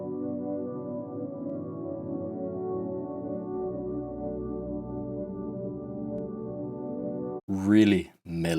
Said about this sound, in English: Then we have the next element, which is a synth pad from Omnisphere